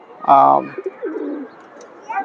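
One loud, close coo from a Golden Kamagar pigeon, with softer murmuring coos trailing off and a faint coo at the end.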